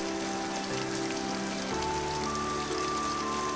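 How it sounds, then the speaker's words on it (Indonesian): Rain pours without pause, hissing evenly on a surface nearby, with a low steady tone running underneath and nobody speaking. "semoga hujan ini bermanfaat."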